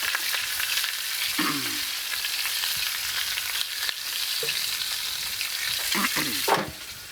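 Spanish mackerel frying in oil in a pan with Moroccan seasoning, a loud steady close sizzle throughout, broken by a few brief scrapes of a utensil moving the fish.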